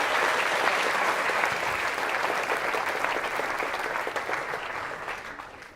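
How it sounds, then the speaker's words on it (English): Steady applause from a conference audience in a Berlin games-festival talk hall, welcoming a speaker; dense clapping holds evenly for several seconds, then gradually thins and fades toward the end. "please give her a big applause"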